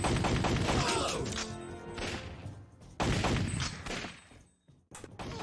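Gunfire from the Time Crisis light gun video game: loud, dense bursts of shots and crashing impacts in two heavy volleys, with a brief lull between them.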